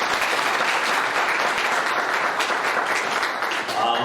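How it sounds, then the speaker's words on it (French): Wedding guests applaud loudly for the bride's sister-in-law at a Gabonese civil marriage ceremony, a dense, steady burst of clapping from the crowd, with faint voices mixed in. "On applaudit encore pour elle."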